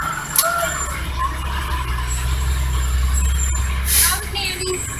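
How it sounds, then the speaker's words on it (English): A 2011 KME fire ladder truck rolls past in a county firemen's parade. Its heavy engine gives a steady low rumble, with brief hisses and clanks. Crowd voices and chatter continue throughout. "this is their 2011 K&E ladder truck"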